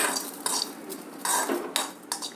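Green chillies and garlic are dry-roasted without oil and stirred in a metal pan, giving a series of quick metallic scrapes and clinks from the spoon against the pan, with no voices.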